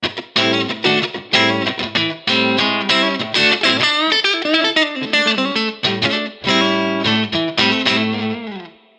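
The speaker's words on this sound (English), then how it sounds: "I really like the coil split with the neck position. It's got a nice kind of bluesy funk sound to it." A clean ESP LTD Mirage Deluxe 87 electric guitar, neck pickup coil-split, plays a warm, bluesy, funky run of chords and single notes, steady and up close with no voices.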